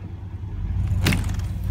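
A truck engine rumbles low and steady beside a 1978 Ford F-150 frame being scrapped, with a brief sharp clank partway through, and no talk.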